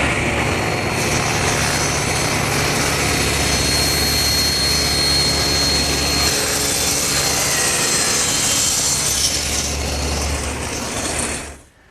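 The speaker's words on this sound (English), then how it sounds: "So to cut those, I'll use my homemade tapering jig, which has an infinite number of selections." A table saw rips wheelbarrow legs on a homemade tapering jig, a steady loud whirring cut held for about eleven seconds before winding down abruptly, with no talk.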